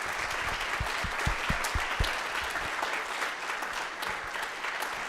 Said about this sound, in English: I would like to give another round of applause to Miss Casey